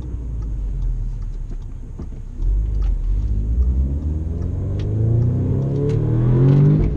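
An Audi S3 8V engine heard from inside the car, droning low, then rising steadily in pitch as it revs hard under acceleration, with a ticking indicator clicking along in the background.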